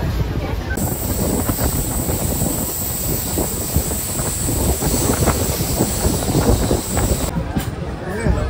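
Howrah to Digha local train running at speed, heard from the open doorway, with steady loud rumble and rushing wind throughout and a faint high whine above it.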